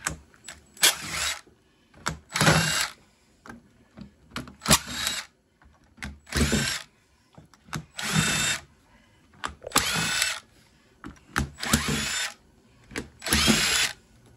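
A power screwdriver fitted with a CRVT10 security bit backs screws out of an e-waste device in seven or eight separate whirring bursts, each about a second long, with short pauses between them and close, loud motor whine.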